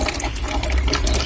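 Rain falls into a white plastic bucket during a storm with black rainwater, giving a dense, continuous patter and splash close to the microphone, with no one talking.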